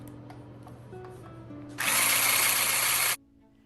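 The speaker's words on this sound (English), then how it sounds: "Now you want to take the 4 egg whites and you want to whisk them into soft" An electric mixer whisks four egg whites toward soft peaks for a chocolate log cake, a loud steady whirr lasting just over a second before it stops, following a low mechanical hum.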